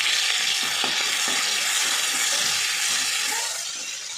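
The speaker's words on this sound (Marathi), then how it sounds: "आता याच्यामध्ये ना कोथिंबीर आणि लसूण वाटून घेतली ते घालून घेतले." A coriander and garlic paste sizzles and crackles in a hot pan over tempered cumin and mustard seeds for a ridge gourd curry, with stirring scrapes throughout; the sizzle eases slightly toward the end.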